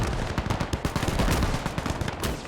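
Dense, sustained gunfire from a Vietnam War video game firebase siege: rapid overlapping shots and bursts crackle almost without pause, some loud and close, others layered farther back, with no talk over them.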